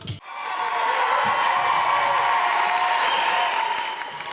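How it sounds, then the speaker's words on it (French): Thunderous audience applause with cheering closes a Kabar concert at a Fèt Kaf celebration on Réunion, a dense, steady roar of clapping that swells in after a brief break and holds loud throughout. "le traditionnel bœuf musical annonce la fin du Kabar dans un tonnerre d'applaudissements"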